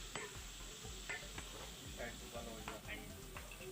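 Tomatoes frying with turmeric in a pan for Assamese mati dail khar, a faint steady sizzle with soft stirring scrapes at a regular pace, heard with no one talking.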